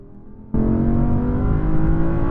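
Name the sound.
Audi R8 cars accelerating in a drag race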